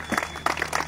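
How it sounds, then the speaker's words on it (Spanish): Applause from a small crowd at a skatepark sports event, steady clapping in bursts lasting under a second. "Un aplauso para él, chicos."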